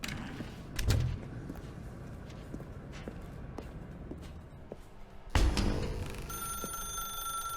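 A telephone rings in the video game The Stanley Parable: Ultra Deluxe, with thuds and footsteps around it and bursts of ringing near the start and again toward the end, the later ring carrying steady tonal bell tones.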